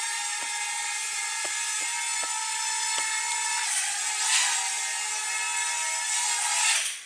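Drone propellers on a SIMREX X300C whine in a steady, high multi-toned buzz as it descends to land. The pitch shifts partway through, and a few faint clicks sound early on.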